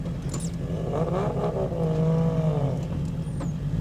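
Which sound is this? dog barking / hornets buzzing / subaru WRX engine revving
subaru WRX engine revving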